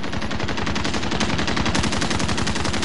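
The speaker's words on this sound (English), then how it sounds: "He pulled out an LMG and started shooting that bitch." A light machine gun in Call of Duty fires one dense, continuous automatic burst, steady and loud throughout with no pauses and no talk.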